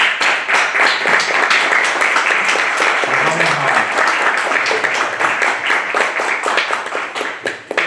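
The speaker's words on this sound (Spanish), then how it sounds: "ahora sí vamos a dar un gran aplauso a Diana." Applause from an audience at an academic-year opening ceremony for a school of history and social science teaching, a steady dense clapping that fills the whole stretch with a brief voice rising beneath it.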